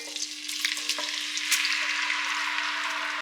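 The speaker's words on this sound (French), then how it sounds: "J'ajoute mes oignons." Onions sizzle and crackle steadily in a pot of cooking oil, a bright continuous frying hiss with occasional pops.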